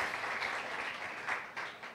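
A church congregation gives warm applause during a Sunday service, with steady clapping at moderate volume and a few louder bursts near the end.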